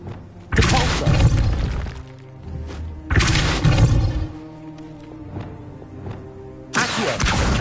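Depulso cast in the Hogwarts Legacy video game: three loud, crashing bursts with a shattering, breaking quality, spaced a few seconds apart, with quieter rumbling between them.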